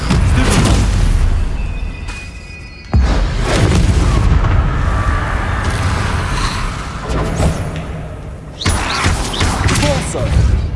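Fiery Confringo spell blasts in the Hogwarts Legacy video game, several heavy booming explosions and thuds with crashing debris in a loud, dense battle mix, with a voice speaking at times.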